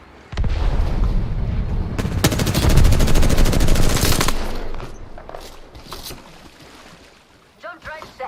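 Rapid video game gunfire, a loud sustained burst of automatic shots rattling for a couple of seconds before fading into quieter effects.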